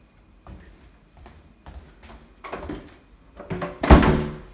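The main entrance door of a flat opens with a series of clicks and knocks from the latch and handle, building to a louder thud and rattle as the door swings, close and alone.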